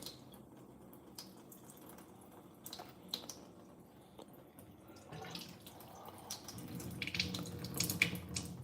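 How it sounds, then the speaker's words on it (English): Water runs from a lever-operated tap, a soft steady flow at first that swells louder and fuller toward the end as the lever opens further, with small drips and clicks along the way. "I'm going to turn my lever here to turn on the water."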